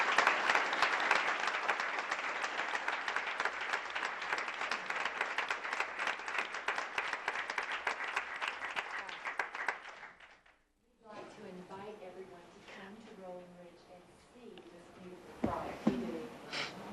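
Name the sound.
audience applause at school board meeting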